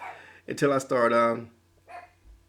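A dog barks loudly at close range in a short cluster of two or three sharp barks, followed by a fainter, briefer yelp and then quiet indoor background.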